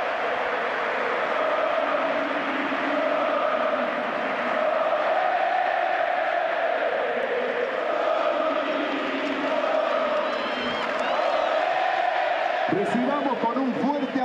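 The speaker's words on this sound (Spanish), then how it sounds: "Y este es el aplauso del público millonario." River Plate supporters at the stadium applaud and cheer departing defender Maidana in 2019, a broad, distant roar of crowd noise sustained throughout, with a commentator's voice talking over it.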